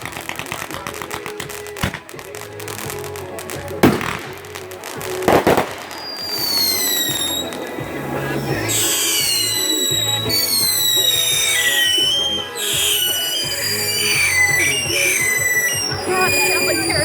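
Fourth of July fireworks burst overhead in a long outdoor display, with sharp loud bangs early on, then rising shrieking whistles and crackling volleys that fill the air continuously, with faint crowd voices in the background.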